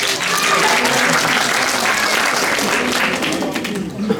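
Loud, sustained applause from an audience, steady clapping that fills the whole stretch and tapers slightly near the end.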